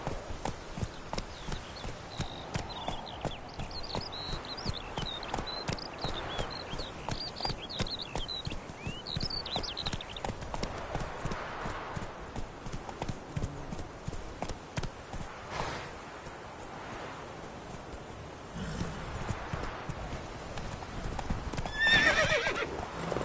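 Roach the horse trots along in The Witcher 3, with rhythmic hoof clip-clops throughout, a neigh or whinny partway through, and a short quieter stretch before the hoofbeats pick up again.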